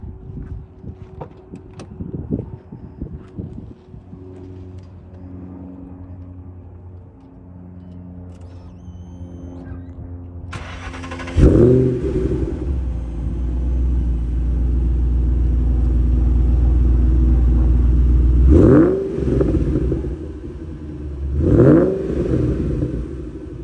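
A 2012 Shelby GT500 engine cranks and catches, then idles with a deep steady rumble, revving up twice in short bursts.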